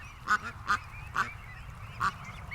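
Geese fly over calling, four loud separate honks spaced unevenly across a few seconds, with quieter cackling between them and no talk.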